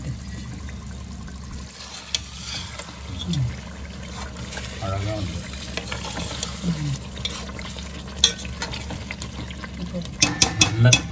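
Water trickles and pours steadily into a pot of donne biryani while a person talks over it.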